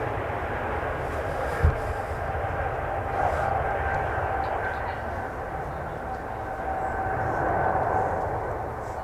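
A Qatar Airways jet taking off at Manchester Airport, a steady broad engine roar holding throughout with a faint rising whine, heard from a distance over a continuous rumble.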